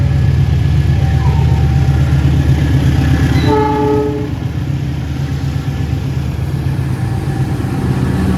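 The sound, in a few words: train passing with horn at station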